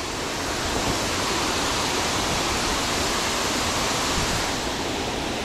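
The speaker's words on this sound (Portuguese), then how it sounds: "Cachoeira" Véu das Noivas waterfall on a trail in Paraty, a dense, steady roar of falling water, loud and close, with no voices.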